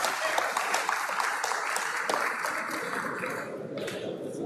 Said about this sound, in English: Guys, can you all clap?